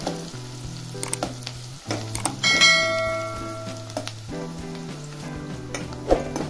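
Chopped onion hits hot oil already crackling with mustard seeds and cumin for a mixed vegetable dish, a close, steady sizzle that flares up for a moment and then settles, with soft tonal music playing behind.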